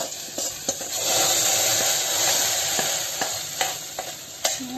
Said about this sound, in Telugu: ఈ పోపు ఈ పప్పులో వేసుకోవాలి